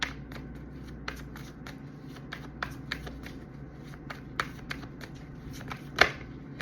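Tarot cards being shuffled and drawn, a steady papery riffle with repeated crisp card snaps and slaps, one sharper flick near the end, all close and fairly quiet, with no voices.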